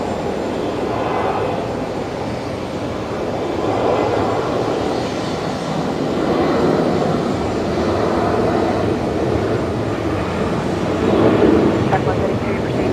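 A Qantas airliner taking off from Brisbane for Perth sends out a low, swelling rumble that rises and falls, with people talking over it throughout.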